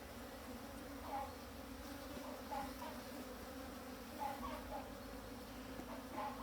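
Honeybees buzz inside an open beehive in a soft, continuous drone, heard faintly, with slight swells as individual bees pass closer.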